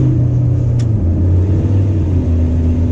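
Steady low engine rumble from a 1993 Chevrolet K5 Blazer on the road with a transmission that won't shift, loud and continuous with a constant drone throughout.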